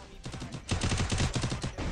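Rapid automatic gunfire bursts out in an online shooter match, a dense run of loud, close shots that starts softer and intensifies after a short gap.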